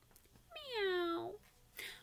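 A voice imitates a cat's meow, one drawn-out rising and falling call, close and clear, during a children's story reading.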